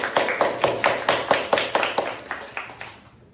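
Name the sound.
audience clapping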